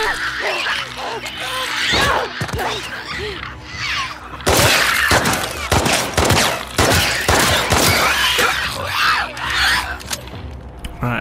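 Gunshots in The Last of Us Part II, several sharp loud cracks fired in quick succession through the middle and later part, mixed with grunts and combat noise while a person talks over them.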